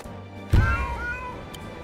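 A single cat meow rises and falls in the video game Wargroove 2, short and fairly clear over a quiet game background.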